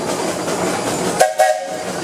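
A steam traction engine whistle sounds at a parade: two short, loud whistle blasts come close together near the end, following steady rumbling engine noise, with no talk.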